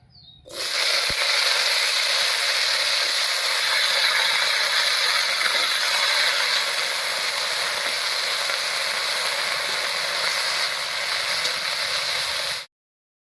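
Small cut pieces of potato frying in hot oil, a steady, loud, even sizzle and hiss that starts abruptly and runs unbroken until it cuts off near the end, with no talking.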